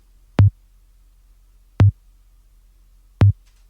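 Three dry snare drum hits, each layered with a low 100 Hz tone, spaced evenly about 1.4 seconds apart, short and tight with no reverb tail, loud and close against silence.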